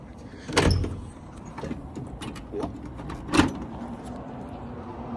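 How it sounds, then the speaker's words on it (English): The hood of a 1967 Alfa Romeo Giulia Super is opened in a workshop: a few faint metallic clunks and latch clicks, one sharper thump near the end, over quiet background. "I'm gonna open the hood now to show you one of the neatest parts about this car."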